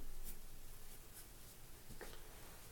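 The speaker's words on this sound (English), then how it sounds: "So I go ahead and write down 12 for my value." A number is written down by hand while working through a playing-card cipher: soft, close scratching strokes at a low level, with no talk.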